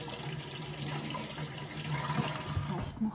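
Water runs steadily into a sink or container in a home, a continuous splashing flow with a faint hum underneath, rising slightly toward the end.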